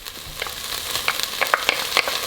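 Minced garlic sizzling in a pot for white chicken chili, with a steady hiss of frying and a series of sharp scraping clicks as a spoon stirs it, close and moderately loud with no talk.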